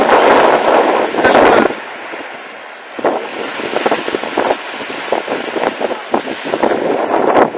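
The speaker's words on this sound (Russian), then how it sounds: "Знаете, какой ветер поднялся?" Strong wind on a seaside embankment in Yeysk, with a rough sea, buffets the microphone in heavy, roaring gusts, with a loud rush at the start and uneven bursts throughout.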